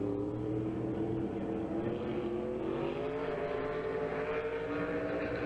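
A Bullitt Camaro race car runs a time trial at Hagerstown Speedway, its engine droning steadily at high revs with pitch rising and falling through the laps, continuous and moderately distant, mixed with crowd and track ambience.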